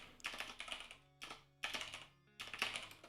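Typing on a computer keyboard comes in quick bursts of close, crisp key clicks separated by short pauses, with no talking.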